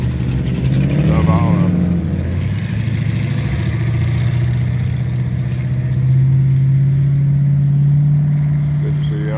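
Cars doing burnouts with engines revving: a steady, loud, low engine drone runs through the whole stretch, with people talking over it.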